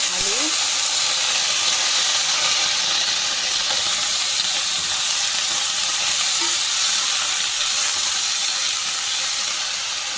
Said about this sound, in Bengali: ডালটা সামান্য ভাজা হওয়ার পরে আমি এর মধ্যে লাউ, আলু এবং আদা বাটা দিয়ে দেব।